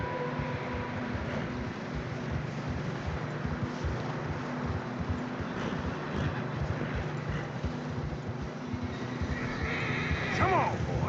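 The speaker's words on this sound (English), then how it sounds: "Horses are struggling." Horses labor through fresh snow in Red Dead Redemption 2, with whinnies, muffled hoof steps and a constant wind roar, while game music or ambience hums underneath and a voice speaks briefly.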